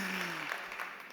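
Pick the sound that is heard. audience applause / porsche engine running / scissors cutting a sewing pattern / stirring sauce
audience applause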